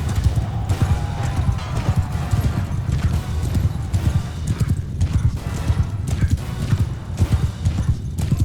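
Cavalry horse hooves in Mount & Blade II: Bannerlord pound in a rapid, continuous galloping rhythm, close and loud, with a faint whinny early on.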